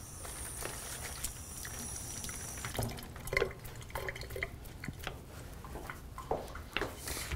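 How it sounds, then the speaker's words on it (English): Hands are rinsed under a running tap in a kitchen while sushi is made, giving a steady low wash of flowing water with scattered splashes and drips, at a fairly soft level and with no talking. "I'm going to give my hands a rinse here"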